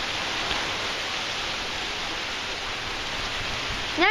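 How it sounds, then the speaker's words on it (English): Heavy thunderstorm rain blows across a street in a steady, dense roar that stays loud and even throughout, with a brief extra burst of sound right at the end. "You see all that rain blowing across the street?"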